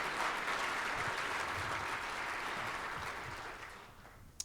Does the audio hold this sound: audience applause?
yes